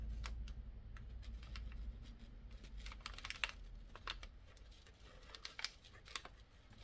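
A pen drawing across old, wrinkled brown packing paper makes faint, close scratches and dry, papery ticks in an uneven, continuous rhythm in a quiet room.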